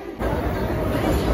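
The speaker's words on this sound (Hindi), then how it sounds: "देखो ट्रेन छोड़ दिया भाई यार" A train pulls out of a station with a steady rumbling roll that sets in after a brief quieter moment, continuing loud and close.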